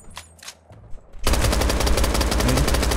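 Rapid automatic gunfire from the mobile battle-royale game Knives Out erupts after a quiet moment, a loud sustained stream of shots that holds steady to the end.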